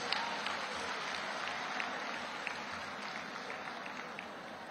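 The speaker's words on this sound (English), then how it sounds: "I think he deserves a round of applause." An audience at a Lagos annual conference claps together in a sustained, even round of applause, distant and soft, with dense overlapping hand claps and no voices rising above it.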